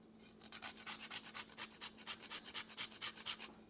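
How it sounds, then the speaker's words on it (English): Whole nutmeg is rasped against a grater for a pork pie mix, giving a quiet, close scraping with an even back-and-forth rhythm of about a dozen strokes. "You can use ground nutmeg or you can grind your own."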